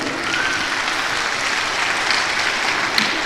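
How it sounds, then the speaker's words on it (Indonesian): A large audience at a Ramadan religious lecture gives sustained applause, a dense, even wash of clapping that holds steady throughout. "berikan aplaus, tepuk tangan untuk beliau."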